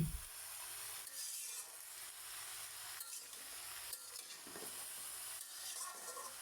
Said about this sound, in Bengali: এখন সবজিটা আমি কিছুক্ষণ ভেজে নিচ্ছি তেলের মধ্যে